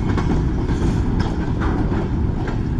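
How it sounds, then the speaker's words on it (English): A long BNSF freight train of over a hundred cars heading north rolls past close by, a loud, continuous rumble with rattling wheel clatter and periodic clacks over the rails. No voices. "How fast you think the train is going"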